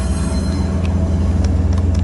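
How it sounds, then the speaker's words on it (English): An eastbound autorack freight train rolls past at close range, a loud, steady low rumble of wheels and cars with occasional brief metallic squeals and clanks riding on top. "Again, this is an eastbound autorag train."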